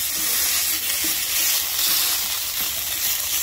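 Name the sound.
corned beef sautéing in a pan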